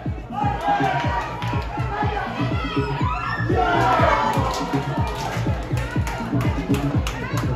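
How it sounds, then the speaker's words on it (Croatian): A crowd at a youth football tournament final in Železnik, Čukarički against Voždovac, gives the players steady rhythmic applause, the claps evenly spaced and mixed with scattered shouts and cheers from spectators nearby. "Molim vas poštovana publiko za jedan aplauz za igrače Čukaričkog."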